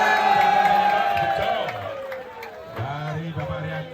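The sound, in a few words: crowd applause and cheering at cow contest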